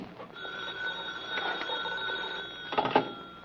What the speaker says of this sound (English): Now the phone.